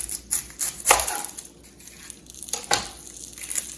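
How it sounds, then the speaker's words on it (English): A knife coarsely chops an onion on a cutting board for biscuits and gravy, making several sharp, close thunks and crunches at uneven intervals, with quieter rustling between cuts and no talking. "Coarsely chop up this onion, nothing fancy."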